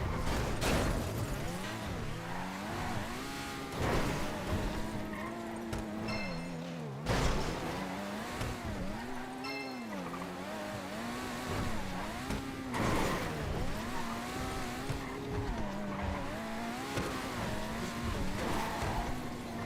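In GTA 5, a car engine revs and climbs through gears with rising and falling pitch, tires squealing now and then, fairly quiet and continuous.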